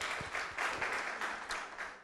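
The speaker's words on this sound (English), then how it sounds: "Let's give him a round of applause" An audience applauds for a Deputy Minister of Fisheries at a regional political dialogue, a steady patter of many hands clapping at moderate distance, fairly soft and continuous throughout.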